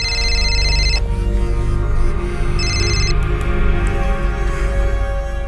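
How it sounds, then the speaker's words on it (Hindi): A telephone rings for an incoming call in an indoor scene, two bursts of a bright electronic ringtone over a steady background hum, loud and close. "कॉल लो नम्रता और फोन को स्पीकर पर डालो"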